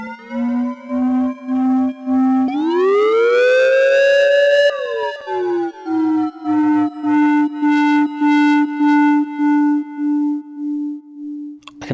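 FM200 synthesizer tone playing a sustained note that glides smoothly upward in pitch with portamento, holds, then slides back down into a pulsing repeated note, loud and alone without any voice.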